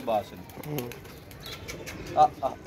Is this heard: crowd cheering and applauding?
no